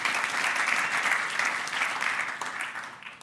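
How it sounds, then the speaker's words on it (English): An audience at a testimony gathering gives a round of applause: a full, steady wash of clapping from many hands that fades slightly at the end. "Let's give him a round of applause."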